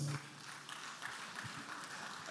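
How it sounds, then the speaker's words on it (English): A civil service lecture audience claps for several seconds, a dense, steady wash of applause at moderate distance. "Please, another round of applause."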